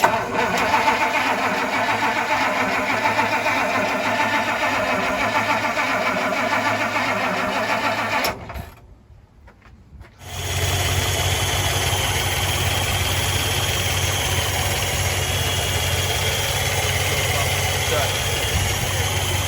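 A 1956 Plymouth Plaza engine is cranked after a dropout in the middle of the clip, then runs at a steady idle with a continuous low mechanical drone up close.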